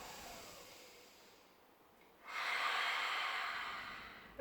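A person inhales during a Pilates exercise: quiet at first, then a long, audible breath drawn in close to the microphone that lasts about two seconds.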